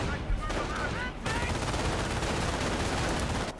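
Howitzer artillery pounds away in the World War II strategy game Company of Heroes: Opposing Fronts, a dense, continuous roar of booming fire with a faint voice near the start.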